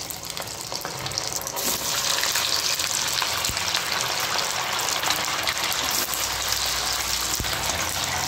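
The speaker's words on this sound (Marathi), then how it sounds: "थोडेसे जे लालसर होईपर्यंत याला आम्ही फ्राय करणार आहे." Small dal bati pieces frying in hot oil, a steady, dense sizzle that stays even and close throughout with no talk.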